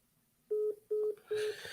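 Three short, evenly spaced telephone keypad tones sound clearly one after another during an outbound phone call, with a faint hiss rising after the last beep.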